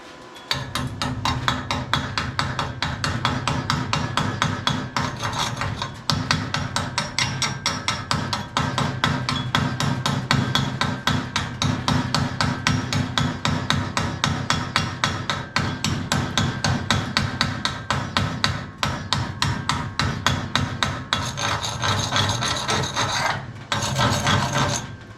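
Steady, rapid hammer blows chip at welds on a twin cam chopper frame, a dense metallic rhythm running nearly nonstop at close range, with a brief pause near the end.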